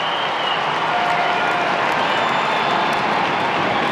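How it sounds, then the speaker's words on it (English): Adelaide Crows cheer squad behind the goals at an AFL football match against West Coast, a steady, dense roar of crowd cheering and clapping held at even loudness throughout, with no voices standing out. "The Adelaide cheer squad behind the goals, watching closely and now cheering."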